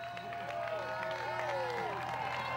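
A crowd applauds a runner approaching the finish of the 2012 Gold Coast Airport Marathon, a steady clapping wash heard under a commentator's continuous talk.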